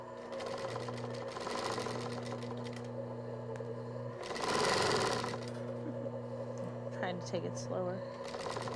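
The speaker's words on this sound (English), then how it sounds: "Now we're going to go back to the sewing machine." A sewing machine hums and stitches steadily in a quiet room, with a brief burst of faster stitching and someone speaking softly.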